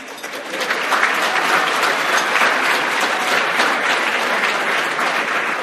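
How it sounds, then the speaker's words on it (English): Gala audience applauding presenting sponsors at a 2016 Tradition of Excellence gala, a dense, steady wash of clapping from a large crowd that swells in quickly and holds loud to the end. "Please join me in applause for our presenting sponsors, Richard D'Amore,"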